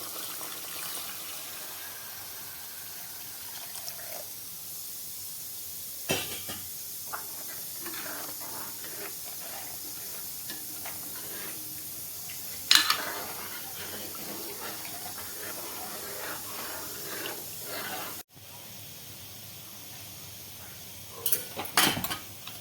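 Hot water poured into a pan of spicy fish masala with coriander, giving a long, soft, steady hiss of steam and bubbling, broken by a few brief clanks of a utensil.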